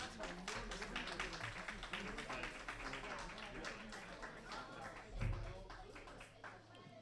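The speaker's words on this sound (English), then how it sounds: "Let's hear a big round of applause for A-Wedge." An audience at a robot combat event applauds the robot A-Wedge, a faint crowd-wide patter of claps that runs throughout while an announcer talks over it.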